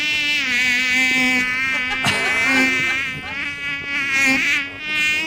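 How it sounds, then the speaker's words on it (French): Mosquito buzzing as a sound effect, a loud, close, steady high-pitched whine that wavers slightly in pitch and volume for several seconds without any talk. "C'est un moustique."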